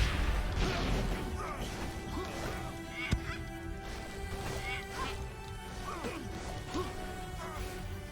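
Honking goose-like calls from a boss bird in the Hammerwatch II video game repeat throughout over busy game noise, with one sharp crash partway through.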